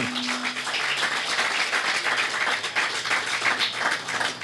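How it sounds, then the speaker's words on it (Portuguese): An outdoor crowd at a street soccer court inauguration in Madiki applauds, a dense, steady wash of many hands clapping that fills the whole stretch without talking over it. "forte aplauso para o tour que está presente aqui"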